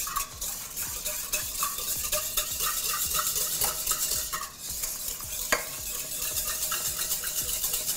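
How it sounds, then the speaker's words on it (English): An egg is whisked with a regular whisk, a rapid, steady metallic ticking and scraping against the bowl, close and continuous throughout. "I'm just gonna whisk it together"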